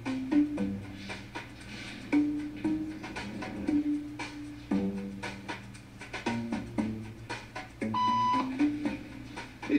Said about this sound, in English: Beep means stand up.